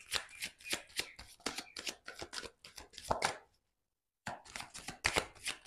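Tarot cards are shuffled and drawn in rapid, close, crisp riffling bursts, with a brief silent gap before the card sounds resume.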